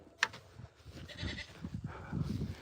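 A farm goat bleats during hoof trimming on a homestead, short wavering calls mixed with shuffling and handling noise, fairly close and moderately loud.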